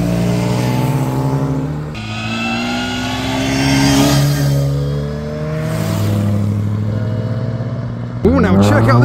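A Porsche 911 drives past at a traffic light, its engine note rising and falling as it goes by, with a second vehicle revving sharply near the end.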